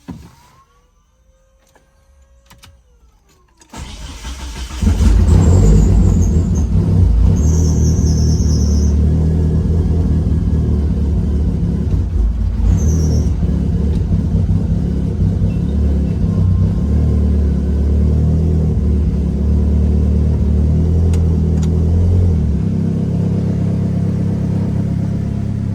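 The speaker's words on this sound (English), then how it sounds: "So let's go ahead and start the car and see what happens." A 1997 Mitsubishi Eclipse GSX with a high output alternator cranks and starts after a few quiet seconds, then settles into a steady, fairly loud idle rumble with no talk.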